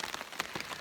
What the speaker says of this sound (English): even though it's raining right now, which isn't the best